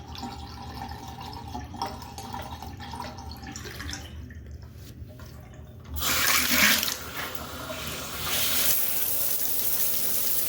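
Water runs and drains in a bathtub: a soft trickle at first, then a louder gush of flowing water surging near the end, close and alone without speech.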